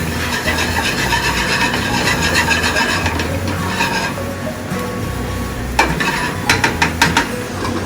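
Chopped peppers, shallots, garlic and scallions are stirred in a hot pan for a clams casino dish. A loud, steady sizzle runs with continuous scraping, then a few sharp utensil clacks near the end.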